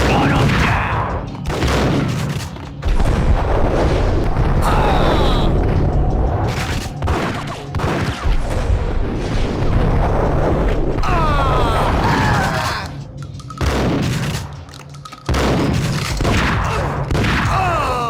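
Loud gunfire from the Max Payne video game, with dense bursts of shots, booms and crashing impacts following one another almost continuously, a voice briefly audible among them.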